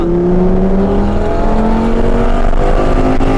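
A Lamborghini Superleggera accelerates hard out of a corner, its engine note climbing smoothly in pitch, loud and close throughout with no break in the roar.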